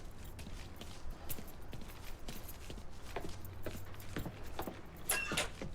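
Keys jangle faintly as they are grabbed in the Mafia III video game, with scattered light metallic clinks and soft knocks over quiet background noise.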